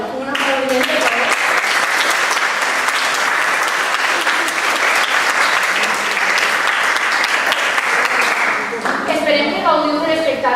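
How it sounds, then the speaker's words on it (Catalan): A school audience applauds the teachers before a school play, dense sustained clapping from a large crowd lasting about eight seconds before a voice resumes speaking. "Un aplaudiment per favor."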